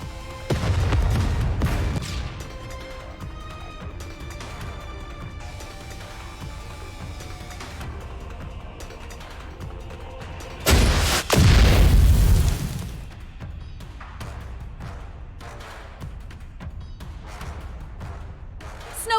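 Artillery explosions in the mobile game Nikke: Goddess of Victory: a heavy boom near the start, then a louder, deep blast around the middle, over a low rumbling battle backdrop with musical tones.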